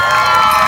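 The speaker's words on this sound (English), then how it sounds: "Give yourselves a round of applause, Yarmouth." A crowd cheers and shouts at Yarmouth Pride, a loud, steady roar of many voices that fills the whole brief moment without a break.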